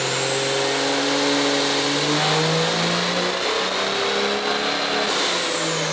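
A turbocharged first-gen diesel truck engine, built to about 1100 horsepower, revs hard on a dyno in one long climbing pull with a rising turbo whistle, then drops off sharply at the end.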